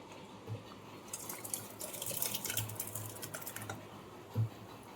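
Egg tarka with mixed dal being poured out, soft wet pattering and drips with light clicks of a spoon or pot, faint and close.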